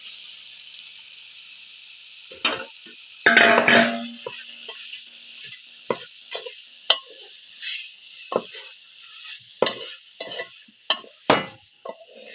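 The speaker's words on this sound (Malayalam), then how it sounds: "ചിക്കൻ ഇട്ട് കൊടുക്കാം മസാല വേട്ടിയ ചിക്കൻ" Masala-coated chicken pieces sizzle in a pan with curry leaves in a steady, even hiss, punctuated by repeated sharp knocks and scrapes of a spoon against the metal pan.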